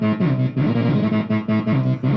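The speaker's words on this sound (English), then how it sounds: "Let's do the distortion guitar." Distorted guitar played through a Korg X911 guitar synth, a buzzy, saturated riff repeating in short rhythmic bursts with clear gaps between phrases, loud and close with no voices.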